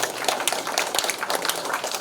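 Applause from a lecture audience, a dense wash of many hands clapping at close range, steady for a couple of seconds with no talking over it.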